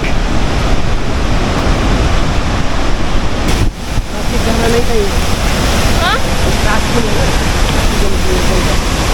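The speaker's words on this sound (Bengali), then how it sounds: "জল উঠছে কিরকম দেখ।" Loud, constant rushing water roars near Changey Falls in Kalimpong, where rising water has washed out a road. The broad wash fills the whole clip, with a brief dip partway through.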